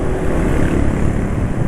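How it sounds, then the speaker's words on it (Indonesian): A two-stroke Duron HP motorcycle engine running smoothly after an oil change, a loud, steady, buzzing drone close by with no pauses. "Tapi yang jelas sekarang mesinnya suaranya halus."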